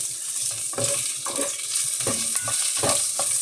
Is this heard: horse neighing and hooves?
no